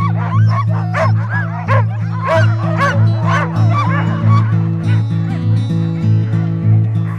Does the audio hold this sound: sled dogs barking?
yes